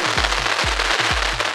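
Sivakasi firecrackers burst in quick repeated booms, about four heavy low thumps in a steady rhythm, loud and near.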